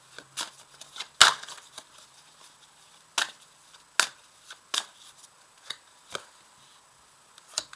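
Oracle cards are handled and laid out one by one, making sharp papery flicks and soft slaps spaced irregularly, close and crisp, with no voice over them.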